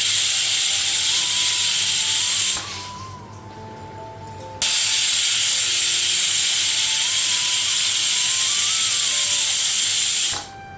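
A kitchen pressure cooker on a gas flame shrieks with a loud, steady whistling hiss of escaping steam. It cuts out briefly, then blasts again for several seconds before stopping abruptly, with no talking.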